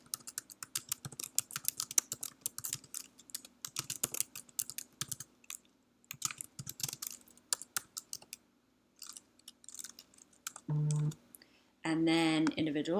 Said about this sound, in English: I'm just typing in whatever.